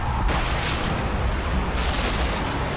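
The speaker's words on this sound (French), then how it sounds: "un truc a explosé" A heavy explosion in Far Cry 3, a loud rumbling blast with a sustained booming roar that fills the whole short stretch.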